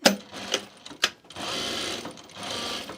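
A sewing machine stitches in a few short bursts, then runs in two longer steady stretches, close by and clear, with no talking.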